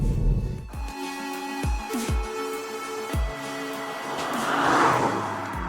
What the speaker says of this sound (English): In sport or track mode, you get extra pops and bangs from the exhaust on liftoff.